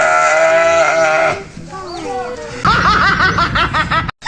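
Garut sheep bleat loudly and close by in wavering, drawn-out cries, with several overlapping calls that grow busier in the second half, mixed with laughter-like voices.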